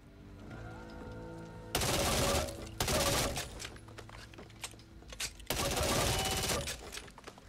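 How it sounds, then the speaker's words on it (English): Full-auto Glock 23 pistol in the game Back 4 Blood fires in three loud sustained bursts, separated by brief pauses with scattered clicks and shell clatter. "this is the Glock 23 auto, which is the full auto version"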